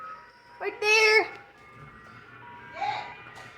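An ice cream truck plays its jingle, a bright tinkling tune heard in two bursts at moderate distance, while excited voices talk over it.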